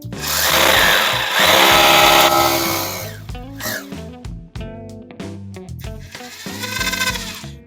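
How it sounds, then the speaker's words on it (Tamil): Loud, grinding hammer drill in hammer mode bores into a hard concrete wall in a sustained burst, then sputters in shorter revving pulses before a final steady run. "ஸோ இப்போ ஹேமர் மோட்ல நம்ம ட்ரில் பண்ணி பார்ப்போம்."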